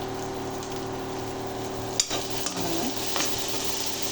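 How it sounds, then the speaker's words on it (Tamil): A spoon stirs and sautés ingredients with turmeric and salt in a hot pan, giving a steady close sizzle with scraping strokes of the spoon, and no voices. "நல்லா ஒரு சவுண்ட் வர அளவுக்கு வதக்கிடுங்க"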